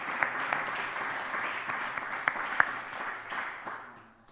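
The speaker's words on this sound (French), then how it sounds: "j'aimerais qu'on l'applaudisse" Audience applause at an opera conference, steady clapping from a seated crowd with a few sharper claps standing out, tapering off toward the end.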